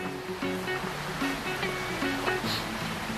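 A stream flows beside a campsite at a resort in Suan Phueng, Ratchaburi, giving a steady, close rushing and gurgling of water throughout.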